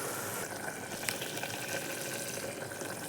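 Water pours over small amaranth greens (siru keerai) in an open cooking pan, giving a steady, fairly quiet hiss and trickle with no talking.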